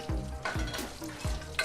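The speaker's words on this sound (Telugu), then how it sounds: "ఇప్పుడు 2 ఎండుమిర్చి వేసి బాగా కలపండి" Dry red chilies and curry leaves frying in a hot oil tempering for tomato dal, a close crackling sizzle with stirring strokes scraping the pan in a few rhythmic passes, no voices.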